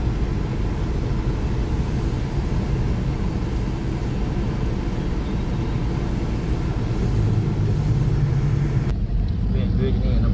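Dense road traffic with many cars moves near the exit of Wattay International Airport in Vientiane, a steady loud engine and tyre rumble throughout with passing vehicles close by.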